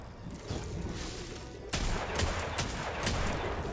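Rapid hand cannon gunfire in a video game, a string of sharp shots with a loud burst midway and several more cracks following close together, no talking.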